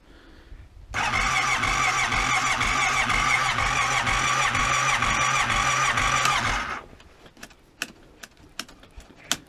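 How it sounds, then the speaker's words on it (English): A cold car engine with a carburetor cranks and catches, then runs loud and steady with a rough, pulsing idle for several seconds before cutting off, followed by scattered clicks and taps. "Well, this is more like a real cold start, right?"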